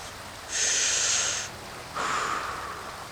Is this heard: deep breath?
yes